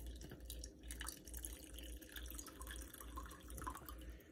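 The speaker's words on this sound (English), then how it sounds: "So I'm gonna go ahead and put my coffee in here." Coffee poured into a self-stirring, heated Muganime cup, a soft continuous trickling and dripping of liquid under a low hum, steady and fairly quiet throughout.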